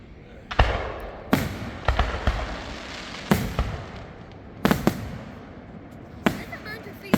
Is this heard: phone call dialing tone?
no